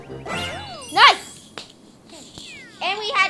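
Cat Peach meows in the Super Mario 3D World video game, several short, bright, high-pitched meows mixed with chiming game jingles.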